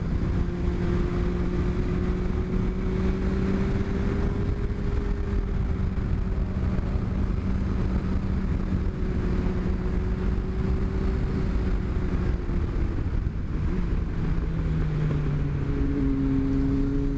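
A Yamaha FZ1 motorcycle being ridden, its engine holding a steady droning note under heavy wind rush, with gentle pitch rises and falls through gear and throttle changes and a shift near the end.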